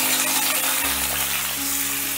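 Diced potatoes fry in three to four spoonfuls of hot white oil in a wok, a loud, dense, continuous sizzle heard up close with no voices.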